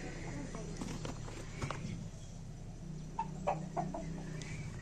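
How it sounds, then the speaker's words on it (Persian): Village chickens cluck in brief scattered calls at a moderate distance, with faint footsteps and a voice in the background. "مرغ هم هستش."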